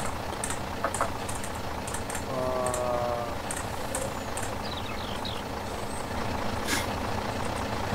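Steady low rumble of a truck idling beside a Barko log loader fitted with a new buck saw, with a short tonal beep and faint clicks and chirps over the constant drone.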